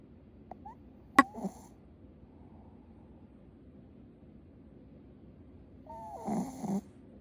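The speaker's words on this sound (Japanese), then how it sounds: "いびきがすごいから、" A shih tzu dog snoring, close and faint, with a short burst of snorting snores early on and a longer rasping snore near the end, separated by quiet breathing.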